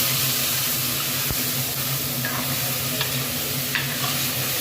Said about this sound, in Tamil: வெங்காயம் தக்காளி வதக்கிட்டு கத்திரிக்காய் மாங்காய் போட்டு ஒரு வதக்கணும் சாம்பார்.